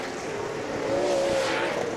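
Off-road race trucks from a 2013 TORC Pro Light, Pro 2 and Pro 4 round at Crandon roar into a turn under braking, a loud sustained engine scream with a rising whine that swells toward the end.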